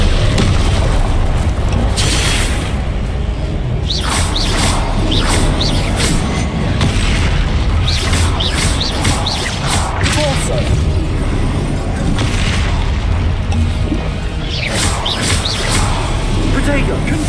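Spell explosions and magical combat blasts in the Hogwarts Legacy video game, with repeated booming impacts and whooshing bursts over a dense, loud background throughout, alongside voices casting spells.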